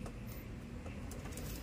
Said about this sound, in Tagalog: Napakabait na ibon, no?